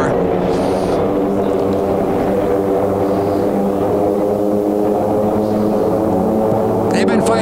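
AT-6 propeller aircraft racing in the Gold class at a 2019 air race, a steady loud droning engine roar throughout, close and continuous with no talk over it.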